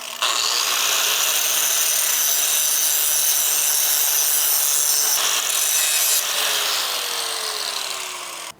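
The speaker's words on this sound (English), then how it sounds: "So I'll go ahead and bevel the top of plate 9 a little bit" A power tool grinds a bevel along the top edge of a plate on a steel front bumper for a 4th gen Toyota 4Runner, a steady, loud, close abrasive whine running almost unbroken, with its pitch shifting slightly partway through.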